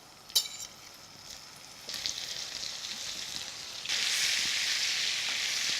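A pot of water with gnocchi simmers on the stove, giving off a soft, steady bubbling hiss that grows noticeably louder and fuller partway through, with no talking.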